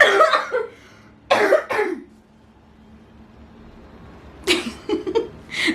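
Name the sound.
cough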